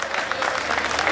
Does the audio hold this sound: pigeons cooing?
no